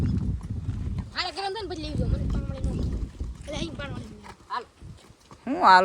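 A mare being ridden gives off soft, uneven clip-clopping hoofbeats at close range, mostly under steady talk from the people around her.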